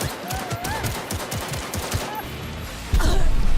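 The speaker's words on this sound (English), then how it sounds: "I got shot from behind" Rapid gunfire bursts crackle through a Cyberpunk 2077 firefight, dense repeated shots close by with a louder burst near the end, no voices over it.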